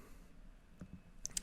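A computer mouse clicks twice in quick succession, sharp and close, after a soft thump in an otherwise quiet room.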